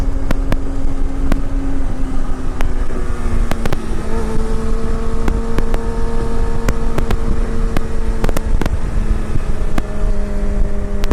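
Triumph Speedmaster motorcycle on the road, a steady engine drone with a low, even tone that holds under constant wind rush, the pitch shifting slightly partway through as the rider changes speed.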